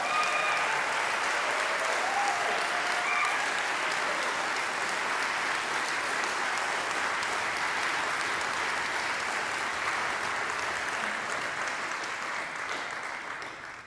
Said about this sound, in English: we should give David and all these musicians another round of applause